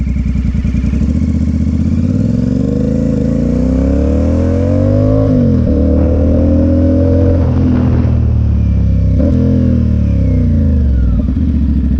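A CFMoto 450SS motorcycle rides in second gear around a parking lot, its engine droning loud and close as revs rise and fall through turns and throttle changes, with no talk.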